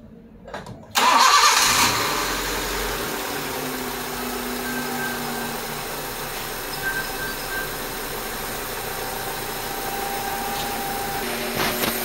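A Honda Civic engine, just fitted with replaced fuel injectors, cranks briefly and catches, then settles into a steady, fairly loud idle that runs on without talk.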